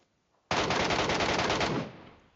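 Sudden close burst of rapid automatic fire in PUBG Metro Royale lasts just over a second before tailing off into quiet, with no talking over it.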